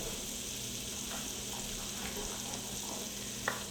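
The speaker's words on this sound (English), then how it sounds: "now get over to the pan. All right, we get our butter going" Butter sizzles steadily in a frying pan on a home stove, a dense, even hiss that holds close and constant throughout, with a faint clink near the end and no talk.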